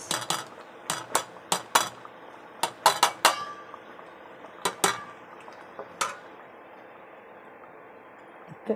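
Metal spoon scraping and clinking against a pot while fried cashews and raisins are stirred into rava kesari, a run of sharp, close knocks in irregular bursts that thin out toward the end.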